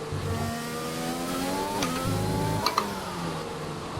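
Formula 1 cars in the F1 2020 racing video game drone with a high, continuous engine whine that shifts pitch through gear changes, loud and close, with a couple of faint clicks near the end.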